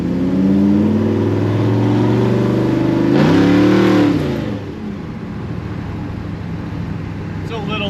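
A clapped-out 1955 Chevy gasser rumbles loudly while rolling through slow traffic, its engine revving up in a rising surge around the middle before dropping back to a lower, rough idle-like drone, close and continuous.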